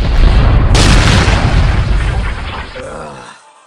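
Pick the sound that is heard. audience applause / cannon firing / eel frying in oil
cannon firing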